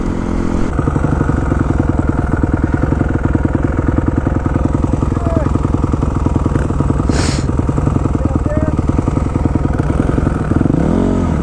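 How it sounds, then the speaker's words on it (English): A full-size motocross bike engine runs loud and close on a gravel road, holding a steady buzzing drone with clattering texture and slight shifts in revs throughout. "So, first full-size motocross bike ever."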